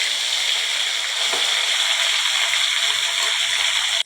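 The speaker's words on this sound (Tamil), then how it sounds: "தென்னை மரத்து வேரும் அப்புறம் நெல்லிக்காயும் பொரிஞ்சு வந்துருச்சு." Coconut tree root and mashed gooseberry fry in hot coconut oil, giving a steady, loud, close sizzling hiss that runs unbroken throughout before cutting off abruptly, with no talking.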